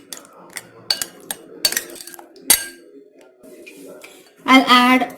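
A spoon mixes curd into mashed pumpkin raita in a bowl, giving scattered, irregular clinks and taps against the bowl. A short burst of voice follows near the end.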